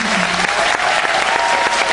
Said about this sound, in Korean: 먼저 연출 이진아 연출님께 진심으로 저희 다 감사의 말씀드리고 박수 한번 부탁드립니다